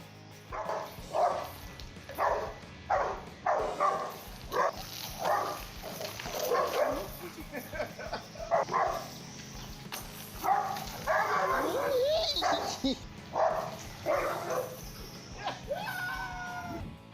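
A dog barks repeatedly at a goat in a rhythmic series of sharp, moderately close yaps, with a few whimpering cries later and a steady background hum.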